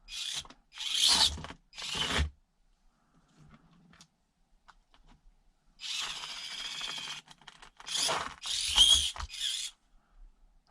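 A micro RC crawler's small electric motor and ESC run at low speed, giving short, rough whirring bursts separated by silences, stuttering and uneven, close by.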